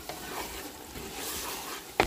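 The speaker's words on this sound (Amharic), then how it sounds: "እንግዲህ በደንብ አብሬ አቁላለዋለሁኝ" Tomato paste being sautéed and stirred in a pot for Ethiopian doro wot chicken stew: a steady soft sizzle with scraping stir strokes, ending in a sharp clatter.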